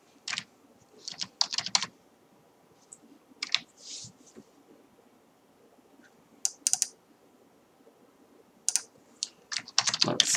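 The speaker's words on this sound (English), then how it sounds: "Let's just type a few things in here." Computer keyboard being typed on in short irregular bursts of crisp key clicks, separated by quiet pauses, close and alone with no talking.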